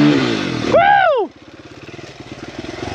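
Honda XR100 dirt bike climbing a gully trail along a cliff on a hard enduro ride, engine revving loud and close before dropping to a lower, uneven chugging idle.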